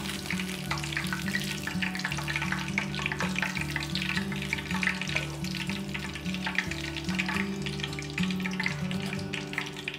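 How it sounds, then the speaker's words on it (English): Sambal frying in hot oil and being tossed together with cooked tofu in an Indonesian-style dish, a loud, dense sizzle with stirring scrapes mixed in, close up and unbroken, no voices. "it's time to fry the sambal and mix them all together."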